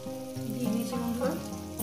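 Potatoes and ridge gourd fry in a pan with a close, steady sizzle and crackle, with faint stirring under it, no voices.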